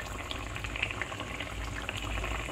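Tangra fish curry bubbling in a pot on a gas flame, a steady close simmer of small popping bubbles and liquid burbling, with no voices.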